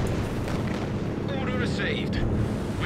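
Booming German LEFH howitzer artillery in Company of Heroes 2 rumbles steadily throughout, a dense continuous roar of shelling with a few higher crackling bursts near the middle, loud and close.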